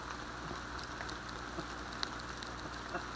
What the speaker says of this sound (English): Raining pretty good today.